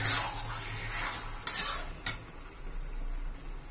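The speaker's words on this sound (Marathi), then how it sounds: "हलवून घेऊया एकदा परत" A spoon stirs green chicken masala in a pan, making soft scraping and a couple of sharp metallic taps against the pan over a faint sizzle, close and quiet.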